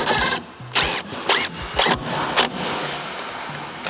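A power drill drives 2.5 inch screws through metal clips in short, loud, high-pitched whirring bursts, about five in quick succession, with no one talking.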